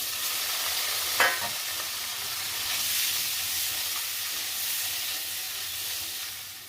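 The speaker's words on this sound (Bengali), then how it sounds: "এখন আমি পনিরগুলোকে দিয়ে হালকা বাদামি করে ভেজে" Paneer pieces frying in melted butter until light brown, giving a continuous close, bright sizzle with one brief clack of a utensil early on.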